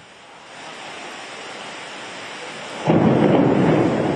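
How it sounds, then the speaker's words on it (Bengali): Thunderstorm over Kolkata: steady rain hiss builds gradually, then a deep, loud thunder rumble breaks in and rolls on, with no voices. "বিশ্বজিৎ, কি পূর্বাভাস ছিল এবং কতক্ষণ চলতে পারে এই বৃষ্টি?"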